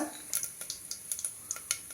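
Cumin, asafoetida, mustard seeds and turmeric temper in hot oil for a spicy Kolhapur-Satara style cluster bean and potato sabji, giving a soft, close crackle with small irregular pops and light stirring clicks.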